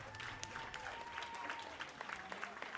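Applause at the good ending of the video game Slay the Princess, a steady wash of many clapping hands sustained evenly throughout at moderate level, with no talk over it.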